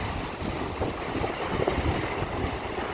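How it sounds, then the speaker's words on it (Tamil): Steady broadband rush of sea waves breaking on an evening shore, with wind buffeting the microphone and no clear individual crash standing out. "ஒவ்வொன்றா அலைகள் ரொம்ப பயங்கரமாக கிளம்புது"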